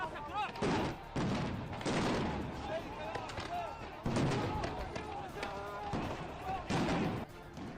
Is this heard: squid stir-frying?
no